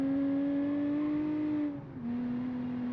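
A car engine in a racing video game holds a steady high rev, dips briefly as if shifting gear, then resumes its even tone, clear and without speech.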